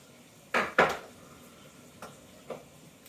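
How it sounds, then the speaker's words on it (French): Dishes being washed by hand at a kitchen sink: two sharp clinks of crockery come close together near the start, then a couple of fainter knocks follow against quiet running-water hiss. "J'avais envie de laver la vaisselle"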